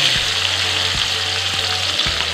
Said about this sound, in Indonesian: Sekarang aku mau goreng bahan sambal.